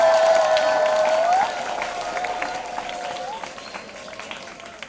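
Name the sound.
church congregation applause and ululation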